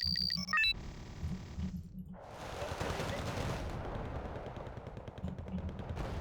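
Gunfire from units in the real-time strategy game Wargame: Red Dragon, a loud, dense stretch of overlapping shots that starts after a brief gap and continues steadily to the end.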